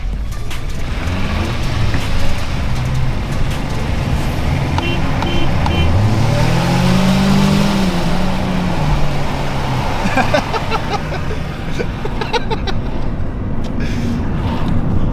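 A Hyundai Accent with about 240,000 km on it accelerates hard on a city street, its engine note rising and sweeping upward over a steady, loud roar of road and traffic noise.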